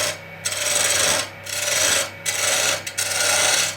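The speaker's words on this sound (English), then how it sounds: "I'll use my roughing gouge just like I did on that end to smooth everything out" A roughing gouge cuts along a spinning wooden garden dibble handle on a lathe, giving a steady broadband rasping scrape in passes about a second long with brief gaps as the tool lifts off, close and loud, with no talk.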